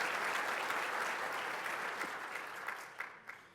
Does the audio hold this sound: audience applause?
yes